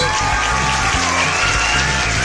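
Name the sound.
clapping applause in cartoon jungle story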